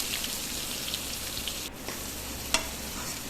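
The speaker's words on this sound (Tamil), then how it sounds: "நல்லா வெடித்த உடனே கடுகு வெடித்ததும் வெங்காயத்தை போடுங்க." Chopped small onions dropped into hot oil with popping mustard seeds, a steady close sizzle with a few sharp crackles and pops.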